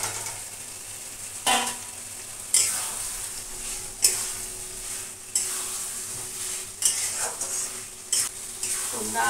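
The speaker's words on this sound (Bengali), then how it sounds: "এবার দিয়ে দেব হচ্ছে এই ডিমগুলো।" Eggs go into hot oil in a pan, which sizzles steadily with stirring. Sharp bursts of spitting and clattering utensils come every second or two, close and clear, with no one talking.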